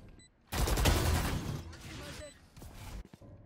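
Gunfire in Valorant, a loud burst of rapid close shots followed by fainter shooting and a few sharp final cracks.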